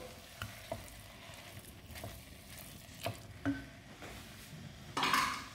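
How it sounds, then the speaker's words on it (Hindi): Spoon stirring meat into cracked wheat porridge in a pot for hareesa, with a few soft scrapes and clinks and a brief louder sizzle near the end, no talking. "अब ये जो गोश्त है ये गंदम के दलिया के साथ मिक्स कर लेते हैं।"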